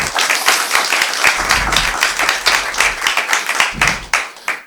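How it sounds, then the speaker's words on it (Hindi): A stand-up comedy audience claps loudly in a dense, sustained burst of applause for the women present, steady throughout with a few sharper claps standing out. "सबके लिए एक बार जोरदार तालियां हो जाएं प्लीज"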